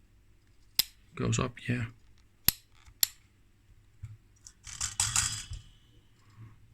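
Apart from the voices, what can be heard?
clicking range selector of 1933 Hartmann & Braun Multavi II meter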